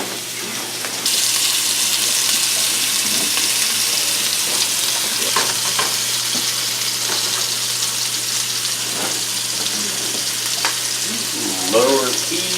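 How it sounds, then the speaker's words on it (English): Meatballs searing in a crowded pan, a loud, steady hiss of sizzling fat that starts abruptly and continues throughout, with faint clatter and a brief voice near the end. "Let it sear a little bit."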